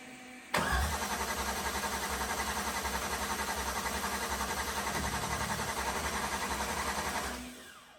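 A Hellcat-supercharged LS engine in a tow truck cranks over and over without catching, its injectors not firing, giving a close, loud, evenly pulsing starter churn that runs for several seconds before winding down.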